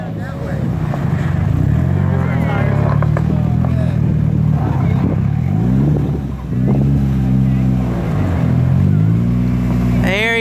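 A race car engine accelerates on a track, loud and near, its pitch repeatedly climbing and dropping through gear changes over a sustained drone, with a voice talking over it at times.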